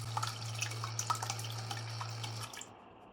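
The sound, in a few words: water flowing from automatic pet waterer pump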